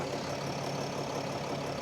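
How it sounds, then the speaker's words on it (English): A Mercedes 320 CDI diesel engine idles at close range, giving off a steady, even mechanical hum with no speech. "Engine sounds great."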